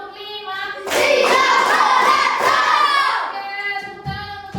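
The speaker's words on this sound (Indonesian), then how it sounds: "tepuk tangan" A classroom group clapping together in a short burst of rhythmic claps during a lesson, loud and close, with children's voices mixed in before settling to a quieter room.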